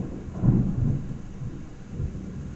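Thunder from a morning storm rumbles low and broad, swelling early then rolling on more softly, with a faint wash of rain underneath.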